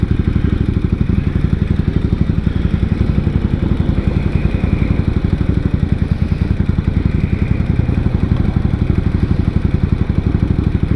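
A 1999 Suzuki Intruder 800 motorcycle engine runs steadily and loudly up close on a test drive, with a continuous low rumbling throb and mechanical clatter and no change in pace.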